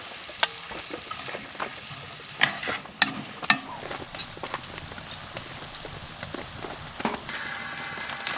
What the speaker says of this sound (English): we got the onions sauteing right now